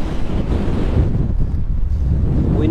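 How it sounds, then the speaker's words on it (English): Strong wind gusting across an outdoor campsite at night, a loud, continuous roaring rush with microphone buffeting that swells and eases without a break. "The wind hasn't let up all night."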